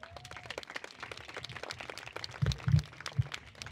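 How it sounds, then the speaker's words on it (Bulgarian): Light, sparse applause from an audience at a film song festival contest, with scattered claps under background murmur and a few louder, closer claps near the end. "Аз искам да ви помоля всички вас за едни аплодисменти"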